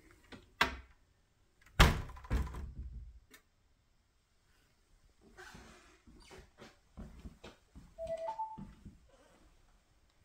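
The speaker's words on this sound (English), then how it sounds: "if you close the door while it's drawing power" A pantry door housing an automated toaster oven cabinet bumps shut with a sharp knock followed by a louder thud, then scattered faint clicks and rustles; an electronic chime-like alert tone sounds briefly near the end.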